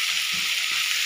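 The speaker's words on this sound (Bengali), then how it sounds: "এইটা এখনই দিলাম যে মাছটা হালকা ভাজা হয়েছিল, আর অর্ধেক ভাজা এটা এই পেঁয়াজ আদা রসুন বাটার সাথে হয়ে যাবে" Fish sizzling in hot oil with onion, ginger and garlic paste, a steady broadband hiss of frying with faint low stirring bumps, close and continuous.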